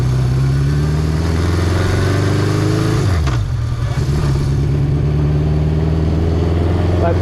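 A 1976 Honda CB750F motorcycle engine drones loudly and steadily while riding, briefly dropping in pitch as it shifts, then picking back up to a constant rumbling hum.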